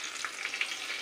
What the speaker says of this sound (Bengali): পেঁয়াজ একটু নেড়ে ছেড়ে দিচ্ছি।